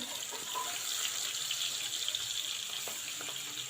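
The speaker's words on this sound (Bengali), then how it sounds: "প্রথমে ইলিশ মাছ এবং চিংড়ি মাছ হলুদ এবং লবণ দিয়ে মেখে এখন ভেজে নিচ্ছি।" Hilsa fish and shrimp coated in turmeric and salt frying in hot oil, a steady close sizzle and crackle with faint pops throughout, no voices.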